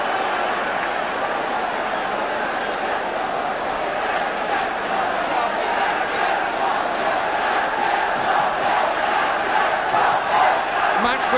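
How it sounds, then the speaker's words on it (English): Large football crowd of about 40,000 at a 1976 Tottenham Hotspur v Newcastle United League Cup semi-final, a steady loud roar of massed voices with swelling chants and shouts throughout. "Match being watched by a crowd of"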